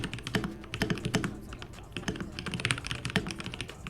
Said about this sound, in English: the best part about this keyboard is the Gatreon Pro Milky Yellow switches